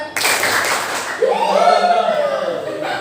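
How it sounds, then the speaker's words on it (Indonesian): A group claps hands together during a Jimmy Says listening game in a classroom, a burst of a few quick claps, with a voice speaking over and around them. "Jimmy Says, clap, clap. Clap, clap, clap."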